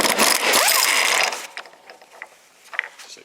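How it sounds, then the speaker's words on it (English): An impact gun spins a 24mm nut off a BC Racing adjustable front coilover on a 2010-2020 fifth-generation Camaro, a loud, dense mechanical rattle that lasts about a second and a half, then stops, leaving faint scattered clicks. "you could use a Torx on here with an open-end wrench, or if you're cool like this clown, you just use an impact gun."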